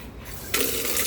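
Water pours into a clay pot used to hold cool drinking water, a soft trickle that swells suddenly halfway through into a fuller, steady splashing stream, close and alone.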